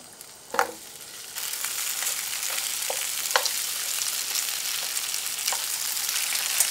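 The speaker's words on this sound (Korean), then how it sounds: "오이도 센 불에서 그냥 볶아주세요." Cucumber stir-fries over high heat for gimbap, a continuous close sizzle rising after a sharp opening clatter, dotted with occasional utensil taps against the pan, no voices.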